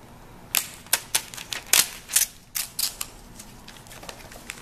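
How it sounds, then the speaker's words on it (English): Magazine pages torn out by hand, a series of about ten quick crisp ripping and rustling bursts in an uneven rhythm, close and moderately loud over a faint room hum, with no talk. "when you find a page you want, we're just going to carefully tear it out"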